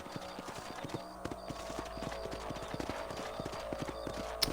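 Horses' hooves clip-clopping at a steady riding gait in the Red Dead Redemption video game, with repeated close hoofbeats over a low ambient bed and a faint whinny near the end.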